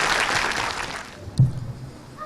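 Audience applause greeting a speaker invited to the podium, heard as dense clapping that fades out after about a second, followed by a thump and quiet room sound.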